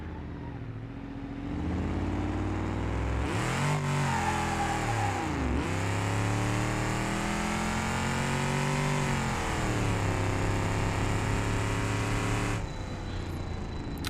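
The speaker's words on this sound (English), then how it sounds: "As soon as I punch it, it just hits rev limiter." A car engine in BeamNG.Drive, a Roadkill project build, revs hard and climbs quickly to the rev limiter, holding a loud, strained buzzing drone with pitch dips and surges for several seconds before easing off.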